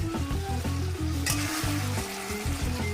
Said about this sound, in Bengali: গ্যাসের ফ্লেম হাই করে আমি এটা নাড়াচাড়া করব।